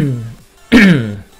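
A single sharp cough bursts out after a brief lull, loud and close, following a short stretch of low voiced throat noise.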